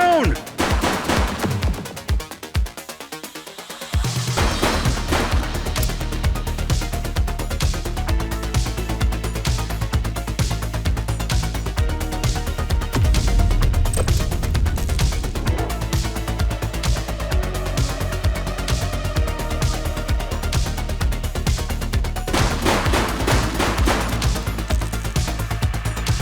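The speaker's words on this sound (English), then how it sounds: "She's shooting!" Gunfire in The Precinct, an open-world police video game: repeated loud shots and rapid bursts of automatic fire across the scene, with brief game voices now and then.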